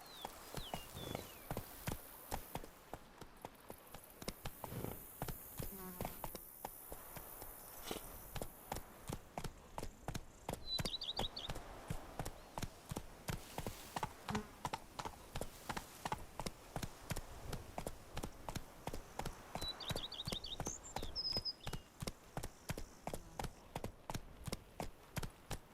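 Horse hooves in The Witcher 3, a steady galloping clip-clop rhythm sustained for the whole stretch, moderately quiet, with occasional brief game sounds and a short voice.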